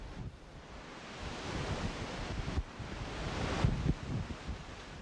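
Strong wind roaring through Patagonian forest, a broad, steady rush with gusts that swell and ease, loud and continuous with no voices.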